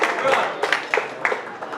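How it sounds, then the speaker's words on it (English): Audience applause at a comedy roast greeting a drag queen performer, crowd clapping with a few sharper claps standing out, heard close and moderately loud. "Big round of applause"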